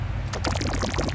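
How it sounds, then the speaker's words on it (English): Produced water starter sound effect, a short liquid burst that kicks in after a low rumble, with bubbly pouring splashes over a steady bass bed. "This water starter you can use to basically start any water sound."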